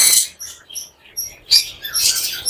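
Lovebirds chirp in short, high, scattered bursts, close by, with a busier flurry of twittering toward the end.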